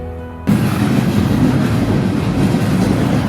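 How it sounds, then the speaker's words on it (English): A train in Alabama begins rumbling loudly after a brief quiet moment, a steady broadband roar of rolling railcars that continues without pause. "Alright, train probably started rolling."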